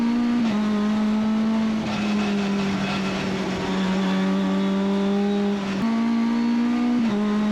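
Race car at the Ledenon circuit revving hard through the gears, a loud, steady engine drone rising in pitch with brief drops at each upshift, recorded from onboard.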